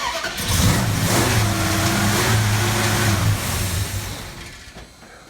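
A car engine fitted with a Holley carburetor, recently converted to an electric choke, cranks, catches and revs loudly up close with a racing, uneven idle before trailing off.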